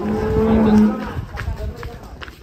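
A cow at a cattle contest in Tulungagung, Indonesia, lets out a loud, drawn-out moo nearby, followed by shuffling and background chatter.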